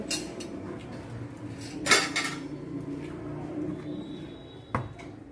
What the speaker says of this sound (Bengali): বাটিটা সরাতে হবে।